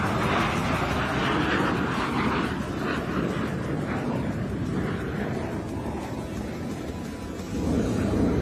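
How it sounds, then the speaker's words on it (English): Airshow jet making a low dirty pass with wheels and flaps down, a loud, continuous broadband roar sustained close overhead for several seconds, swelling again at the end. "He's got the wheels down, the flaps down. Again, this is what we refer to as the dirty pass."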